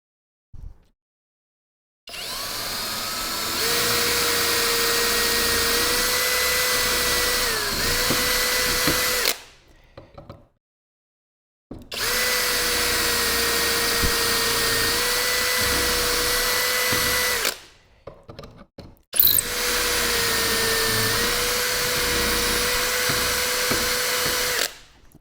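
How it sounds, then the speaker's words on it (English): A power drill bores deeper into the wooden side piece of an in-wall cabinet, in three long whining runs separated by brief pauses, loud and close. "we're going to drill deeper into"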